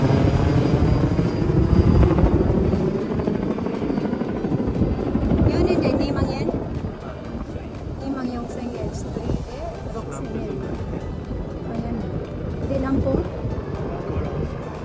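A helicopter flies at Aburatsu Port in Nichinan, Japan, a loud continuous rotor thrum and engine roar lasting throughout, with people talking over it.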